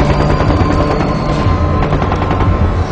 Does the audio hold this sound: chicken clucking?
no